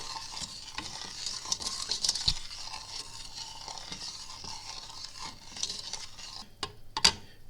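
A spoon scrapes and swishes around a pot of sugar and honey syrup over fairly high heat, soft and continuous, with a light sizzle underneath and a couple of sharp clinks.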